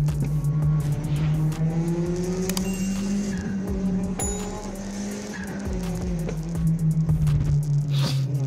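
Cars race on a public street, engines droning and revving loudly while tires squeal and skid almost continuously, a dense, close mix with no voices.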